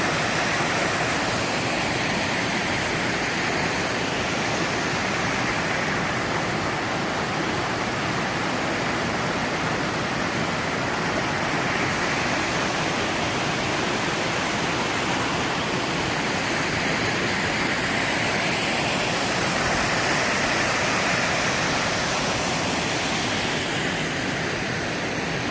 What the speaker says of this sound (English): This is Long Creek Falls, about 1/10 of a mile off the trail.